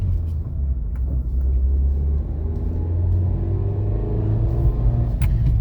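Low, steady engine rumble fills a Nissan Versa cabin while driving after muffler and heat shield repair, with road noise and a few faint clicks, no voices.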